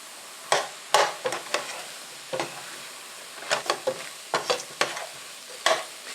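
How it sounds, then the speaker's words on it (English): Flour being stirred into a sausage mixture in a pot, heard as a series of irregular scraping, clinking stirs against a faint sizzle, close and moderately loud with no talk. "add a 1/2 cup of flour right to everything and just stir that up"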